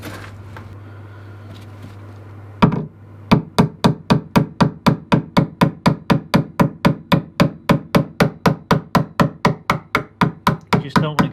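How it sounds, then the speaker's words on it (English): A hammer taps on steel sheet metal for a Jeep XJ rear tube fender flare in a steady, even rhythm of sharp metallic strikes, about three per second, after a brief quieter stretch of background hum. "Just don't want to go too crazy tapping on it so you bend the sheet metal in"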